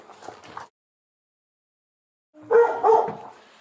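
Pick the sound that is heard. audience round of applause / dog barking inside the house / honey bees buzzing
dog barking inside the house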